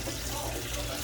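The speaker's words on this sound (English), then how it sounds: "I let the water run because the water will help separate the membrane from the shell." Water running from a kitchen tap while boiling eggs, a brief steady hiss and splash at moderate loudness with no break.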